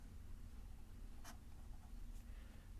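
Pen writing out a physics integral, faint scratchy strokes with two brief sharper marks over low steady background hum, quiet and close.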